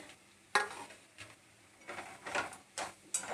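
Bitter gourd and spices are stirred in oil in a pan, with a spoon scraping and clinking against the metal in several sharp, irregular strokes spaced apart, and quieter sizzling between them.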